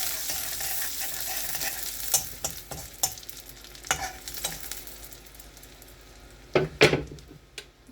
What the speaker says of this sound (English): I'm sauteing my garlic first because I want a little burnt garlic taste.